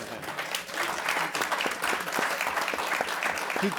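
An audience at a defense policy forum breaks into applause, a continuous moderately loud patter of many hands clapping with a few sharper individual claps.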